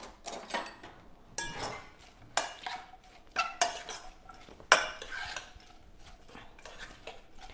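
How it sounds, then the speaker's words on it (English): A spoon scrapes and clinks against a pan while salt is stirred into chicken korma, in quiet irregular bursts of metallic taps and scraping, fairly close and with no voices. "Give it all a stir through."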